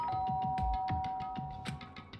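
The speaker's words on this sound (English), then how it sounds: "pressed the doorbell" A doorbell in the video game Danganronpa sounds a repeated electronic chime, several quick bright tones in a rhythmic pattern, fairly quiet and clean with nobody talking.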